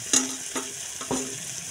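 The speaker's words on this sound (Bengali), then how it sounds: "আপনারা এরকম ভেজে খাবেন" Flat beans (shim) frying in a pan: a steady bright sizzle with three stirring scrapes in quick succession, close and alone with no talk.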